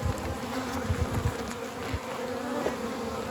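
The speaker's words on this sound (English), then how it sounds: "You always want to move slow with your bees" Honeybees buzz around an open hive in a constant, dense drone, loud and close, with no talk over it.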